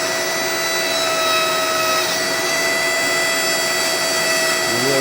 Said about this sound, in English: the dremel makes bigger, faster cuts